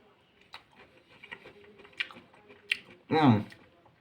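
Raw carrot from a Ukrainian-style hot dog is chewed in a loud crunchy burst near the end, following quieter mouth sounds and faint background noise.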